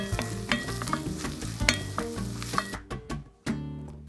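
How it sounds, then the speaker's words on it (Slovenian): Onion and garlic fry in a pot with a strong, bright sizzle, broken by repeated scraping and clinking from a utensil stirring; the sizzle briefly drops near the end before coming back. "in pražimo še 2 minutki."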